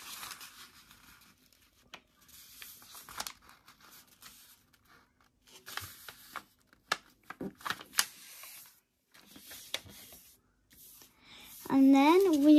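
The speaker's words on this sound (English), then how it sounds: "we need to get a corner and fold it to" A sheet of A4 paper is folded at the corner, giving soft, close crinkles and sharp creasing snaps in scattered bursts, with a short hum or tone rising at the very end.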